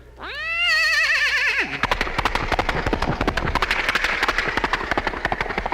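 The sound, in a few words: imitated horse neighing and galloping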